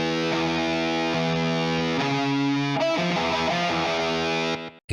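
A vocal slapback delay adds quick single echoes within a loud, distorted prog metal mix. Sustained guitar chords change a few times before cutting off abruptly at the end, with no speech.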